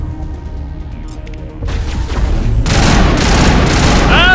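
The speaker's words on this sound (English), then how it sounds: "Ah, sniper!" Gunfire erupts in the Mass Effect video game, building from quieter clatter into a loud, dense volley of shots and impacts, with no talk over it.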